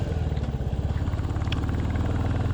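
A 2023 Royal Enfield Bullet 350 with a stock exhaust, ridden through the countryside: a steady, loud single-cylinder thump with an even, rapid beat and no pauses, close up.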